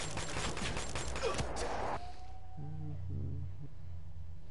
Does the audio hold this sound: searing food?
no